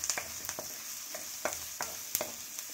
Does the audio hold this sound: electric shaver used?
no